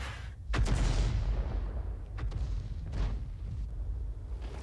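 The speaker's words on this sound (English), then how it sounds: "when you fire an Arty, it does take some time for the shell to reach the target" Shells fired from an SU-8 self-propelled artillery gun in a tank battle game: a sharp heavy boom near the start, then a few fainter distant thuds over a low continuous rumble, no talk.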